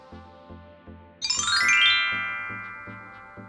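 A bright notification bell chime rings once, a rising metallic ding that swells and slowly decays over a soft, rhythmic background music loop, with no voices.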